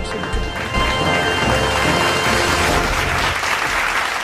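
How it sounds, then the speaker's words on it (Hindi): An audience breaks into loud, sustained clapping to welcome a host on a comedy quiz show, the applause swelling after a brief lull and holding as a dense roar. "तुम जोरदार ताली के साथ मुझे स्वागत करना"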